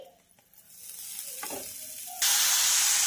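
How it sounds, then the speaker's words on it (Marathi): Grated carrot being added to fried dry fruits in a pan, starting with quiet stirring and rising into a loud, steady hiss of sizzling, heard close with no voices. "या स्टेजवर आपल्याला गाजराचा खीस घालायचा आहे।"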